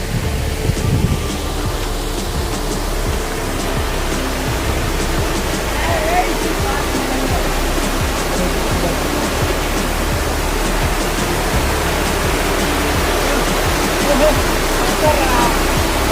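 A small waterfall at Iravendi near Bhadrachalam rushes steadily at close range, a loud, unbroken wash of falling water that fills the whole stretch.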